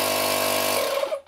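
A Makita 18-volt cordless inflator, model DMP180, runs with a loud, steady buzzing motor drone that holds evenly, then trails off and winds down near the end.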